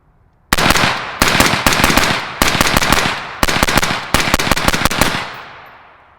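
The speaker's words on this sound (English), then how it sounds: "Now I'm just gonna load like 20 rounds up, mag dump it, and just see how much gas I'm actually getting back to the face." An LMT ION K 5.56 rifle with a suppressor emptied in a 20-round mag dump: loud, rapid bursts of shots in several quick strings with short pauses, close up, trailing into a fading echo.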